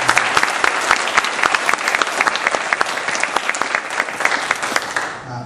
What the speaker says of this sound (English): So I'd like to see everybody give an applause.